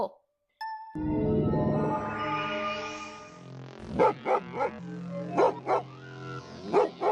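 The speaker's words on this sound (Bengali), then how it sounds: "এমন ঘেউ ঘেউ করছে কেন?" A cartoon dog barks several times in quick, loud bursts near the end, after a long rising whining tone opens the scene.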